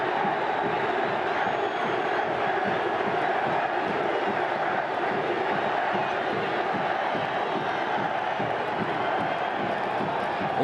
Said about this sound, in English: Trying to lift this big crowd, and the crowd tries to lift them back.